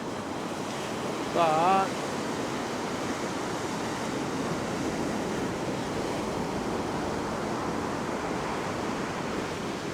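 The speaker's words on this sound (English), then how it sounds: "when a really big wave comes in, it just pushes." Beach surf breaking steadily on the shore during beach fishing, a continuous washing roar with wind, and a brief spoken word near the start.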